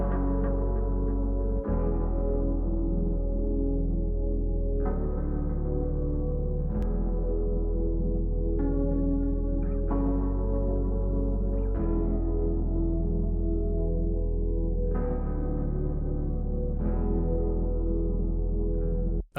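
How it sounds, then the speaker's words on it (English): Layered loop of a soft synth pad, keys and a deep synth bass from a Splice sample for a dark R&B beat, sustained chords changing every few seconds, steady and full with no voices. "That sound consists of pad, keys, and a synth bass"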